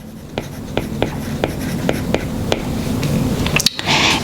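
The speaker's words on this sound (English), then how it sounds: "So let's go ahead and write that down." Pen strokes scratch across paper as budget figures are written down, a series of short, close taps and scrapes about every half second, clear and fairly loud.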